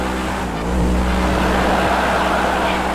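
A very fast car in GTA 5 launches hard off the line with all four tyres smoking, its loud engine roar rising steadily as it accelerates, close and continuous throughout.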